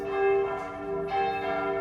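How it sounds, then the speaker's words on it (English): Church bells ring loudly with sustained, overlapping tones that swell and strike again, a rich metallic resonance filling the space. "Oh, those church bells are loud."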